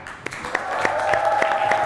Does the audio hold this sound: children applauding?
yes